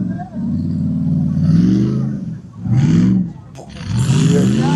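An off-road vehicle's engine revs hard in a muddy extreme off-road race, rising and falling in loud, near surges with pauses between them while someone speaks over it.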